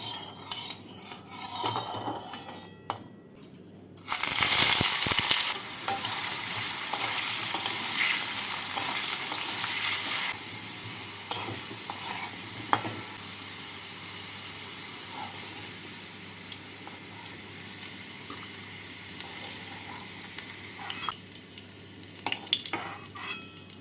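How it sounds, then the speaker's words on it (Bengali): Potato and cauliflower pieces fry in hot white oil, giving a loud, steady sizzle that flares up sharply when they go in. Occasional clinks of a spoon against the pan sound over the sizzle, and no one speaks. "তেলটাকে ভালো করে গরম করে নিয়ে প্রথমে আলু আর ফুলকপিগুলোকে ভেজে তুলে নেব"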